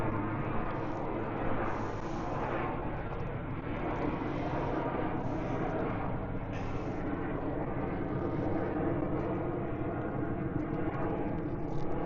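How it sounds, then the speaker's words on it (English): A fixed-wing airplane passes overhead on a sunny day, a steady broad engine roar that holds at a moderate level and fills the scene for the whole stretch without speech. "We're gonna wait for this plane."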